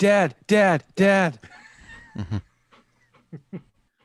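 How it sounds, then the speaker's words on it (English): A needy dog whimpers in three long, loud, whining cries, followed by softer whines and brief panting sounds, all close by and indoors. "A very needy dog here tonight."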